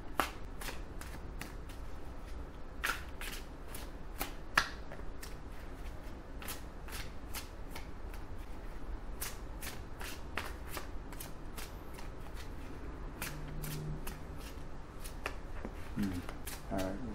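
Repeated sharp riffling clicks of tarot cards being shuffled, quick irregular bursts close up against a quiet room.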